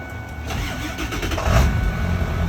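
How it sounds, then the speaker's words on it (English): A 2001 Ford F-350 truck's 7.3L diesel engine cranks and catches, settling into a rough, rumbling idle up close. "I'm going to go ahead and start the truck"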